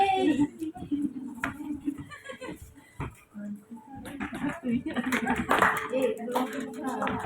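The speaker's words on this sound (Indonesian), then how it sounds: "Tepuk tangan." Students in a Year 8 Indonesian-language classroom give a round of hand clapping, scattered claps rising in the second half amid children's chatter and a teacher's voice.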